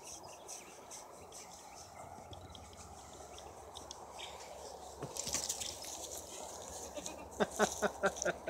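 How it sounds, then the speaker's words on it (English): A young goat bleats a few times near the end, short quavering cries over a quiet outdoor background of crickets and faint rustling. "it's a sugar goat, huh?"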